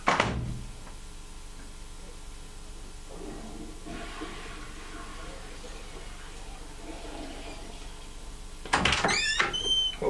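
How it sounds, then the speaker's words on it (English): A door thuds shut at home, a short sharp knock near the start and a louder burst of rattling and banging near the end, separated by quiet room noise with faint talk. "Close this door."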